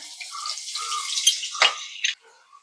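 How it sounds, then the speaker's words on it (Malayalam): Mustard seeds and garlic splutter in hot oil, giving a dense, steady crackle broken by a few sharper pops before it fades at the end. "കടുകൊന്ന് പൊട്ടട്ടെ"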